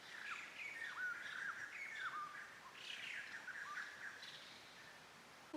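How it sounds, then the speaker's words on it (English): Several birds give repeated squawking, chirping alarm calls outdoors. The calls are faint and distant over a steady background hiss. "Normally birds make alarm sounds for other birds when there's predators around."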